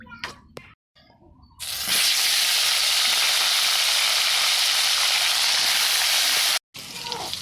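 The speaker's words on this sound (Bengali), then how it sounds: "মাছ ভাজা কড়াইতে আমি তেল দিয়ে দিচ্ছি পটল ভাজবো" Pointed gourd dropped into hot oil in a wok bursts into a loud, continuous sizzle after a few quiet seconds of talk and clatter, cutting off briefly near the end.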